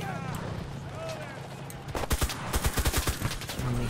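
Rapid bursts of gunfire from the World War II shooter Enlisted, Battle of Berlin at Lehrter Bahnhof, start midway and pound loud and close in quick succession, after some quieter game sounds and faint tonal effects.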